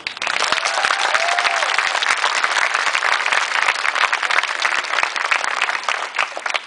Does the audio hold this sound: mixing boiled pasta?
no